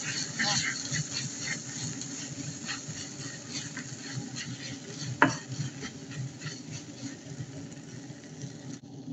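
A spoon stirs thick cream into golden-browned corn in a pan, giving a soft, steady scraping and clatter with one sharper clank of metal partway through.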